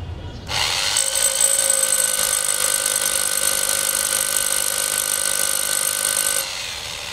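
An electric drill machine starts up after a brief pause and runs at a steady high whine with strong tonal harmonics for about six seconds, then winds down, with no speech over it.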